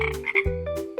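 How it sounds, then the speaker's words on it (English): A frog croaks a few times in quick, close, buzzy calls, alone with no other sounds. "F is for frog."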